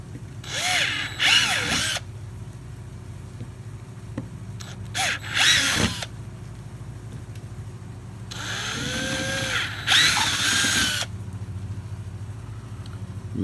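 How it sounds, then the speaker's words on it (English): A power drill fitted with a large 3/8-inch bit bores into a polyethylene kayak hull in several short bursts of whining, grinding noise a few seconds apart, close by, with quiet pauses between the holes. "You see how quickly the large drill bit grabs the polyethylene and goes through it"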